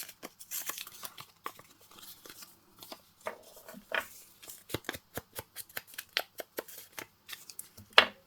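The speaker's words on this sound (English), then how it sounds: "Yeah, I definitely need to tear this a little." A paper envelope is torn by hand in a quiet craft setting, with a run of short, crisp rips and crinkles in irregular bursts, close up and alone.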